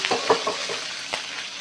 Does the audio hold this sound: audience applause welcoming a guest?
no